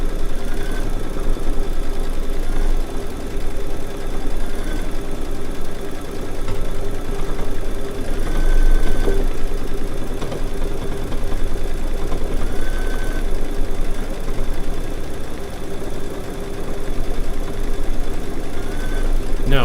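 A Baby Lock quilting machine stitches an edge-to-edge design in a studio, humming and chattering steadily throughout, with someone talking over it.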